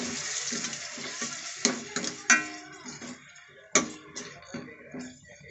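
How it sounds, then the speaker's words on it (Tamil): Chopped tomato sautéing in oil for a drumstick curry, heard as a light sizzle with sharp clinks and scrapes of a spoon against the pan at irregular moments, close by, with no talking. "தக்காளியும் நல்லா வதங்கணும் தக்காளி வதங்கிட்டு இருக்கு"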